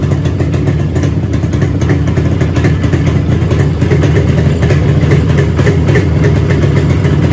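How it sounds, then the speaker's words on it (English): A motorcycle fitted with an Allied digital ignition kit idles close up, a loud, steady, even engine rumble with a light mechanical clatter running throughout. "Just hear the idle,"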